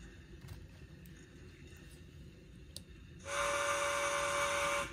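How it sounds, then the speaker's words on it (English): A steady, bright hissing whistle from a small model steam locomotive starts suddenly and holds for about two seconds over a low background hum. "And the whistle works."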